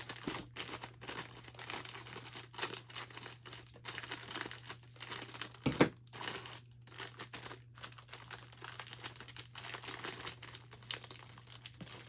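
Plastic packaging around a blanket being folded and taped, a steady close crinkling and rustling with sharper crackles, over a low constant hum and with no talk.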